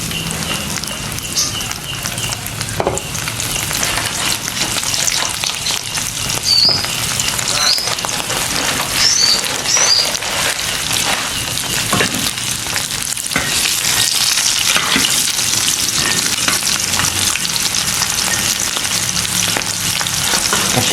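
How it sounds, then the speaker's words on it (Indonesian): Salted fish frying in a pan, giving a loud, steady crackling sizzle with rain-like spatter that continues unbroken throughout, no voices. "Goreng asinan."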